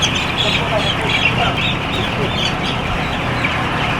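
A crowd of chickens clucks and murmurs continuously inside a barn on a chicken farm during a flock weigh-in, a steady dense chorus with faint background noise.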